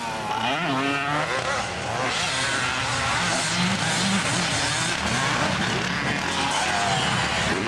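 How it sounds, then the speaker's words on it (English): An old two-stroke dirt bike rides laps on a track, its engine wailing and revving continuously at moderate distance beneath a broad wash of outdoor noise. "who wants to watch a 7-foot-tall person ride an old two-stroke anyway?"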